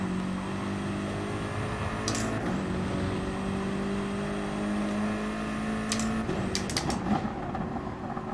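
Toyota Supra engine in Gran Turismo Sport, a steady droning motor tone that steps in pitch with gear changes, plus a few brief sharp clicks near the end.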